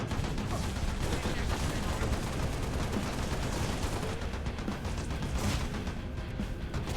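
Turret fire in the video game Halo Reach, dense rapid automatic gunfire bursts with explosive crashes, continuous and loud across the whole stretch without letup.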